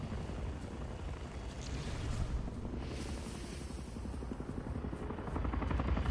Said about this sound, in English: Oh no, that sounds like a chopper.